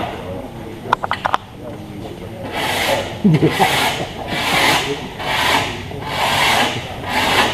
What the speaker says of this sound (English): just take the sanding block.